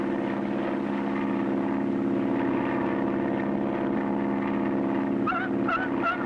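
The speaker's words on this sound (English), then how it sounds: "the only way he can bring his plane down on the water with one float is to make a high-speed power landing" A propeller seaplane with one float makes a high-speed power landing on water; its loud, steady engine drones without pause, pitch holding level, with a few brief rising bursts near the end.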